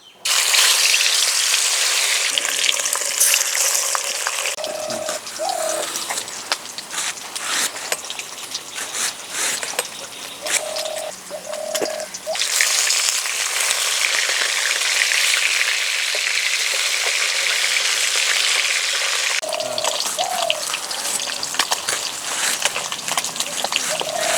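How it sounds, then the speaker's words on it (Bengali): Loud, hissing sizzle of rohu fish pieces frying in hot oil, rising and easing in waves, with occasional clinks and scrapes from a spatula. "আরও 3 পিস মাছ রয়ে গেছে, এভাবেই ভেজে নেব।"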